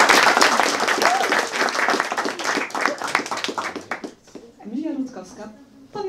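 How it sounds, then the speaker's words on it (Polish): Dense, lively clapping fills a small concert hall as an audience welcomes a singer and her accompanist, loud and rhythmic before tapering off as a voice begins speaking. "Brawa!"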